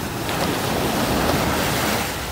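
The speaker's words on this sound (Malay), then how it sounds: "ini adalah pantai Tanjung Ru" Surf washing steadily onto Tanjung Ru beach on Langkawi island, a continuous broadband roar of waves with wind buffeting the microphone, no voices present.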